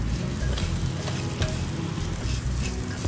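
Onions caramelizing in a pan with chili, giving a steady, dense sizzle and crackle with light stirring scrapes throughout, close and fairly loud, with no voices.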